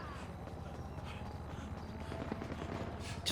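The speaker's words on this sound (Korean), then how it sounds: "저쪽에서는 총소리가 나는 것 같습니다" Distant, muffled bursts of rapid gunfire in the video game GTA V rattle faintly behind a constant low background rumble, with no voices.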